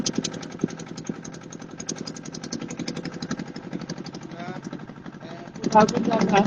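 An engine boat on the Jamuna river near Bhuapur, Tangail, chugs with a steady rhythmic thrum that carries throughout, and voices rise over it near the end.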